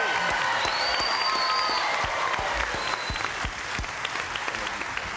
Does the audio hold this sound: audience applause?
yes